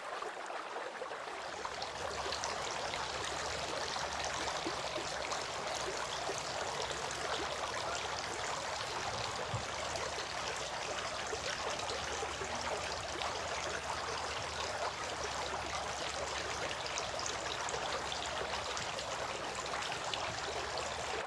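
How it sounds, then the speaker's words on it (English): Water poured and steadily trickling during ritual ablution as forearms are washed, a continuous broadband running-water sound close by with no talk. "took a handful of water and washed his right forearm"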